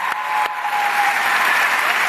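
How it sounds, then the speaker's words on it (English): A rally crowd at a Turning Point USA event applauds loudly and steadily, close and continuous, with a few sharp claps or knocks standing out near the start. "I want to give him a big round of applause"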